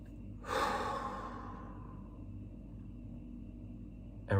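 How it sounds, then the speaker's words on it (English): One deep breath, a clear, close inhale-exhale with an airy sigh that fades slowly, followed by quiet and a short noise at the very end. "Good deep breath."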